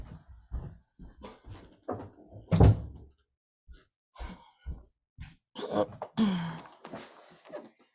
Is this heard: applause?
no